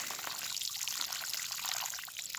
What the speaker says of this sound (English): Next, I'm going to want to water it, and you can never almost give too much water.